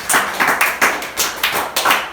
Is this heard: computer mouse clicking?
no